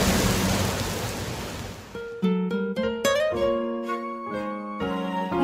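Rain pours as a dense, loud hiss at the start of a radio program, then fades out as musical tones enter and take over, with no speech.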